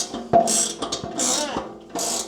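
A ratchet tightening bolts on an engine, giving short bursts of clicking mechanical ratcheting close by, with brief pauses between strokes.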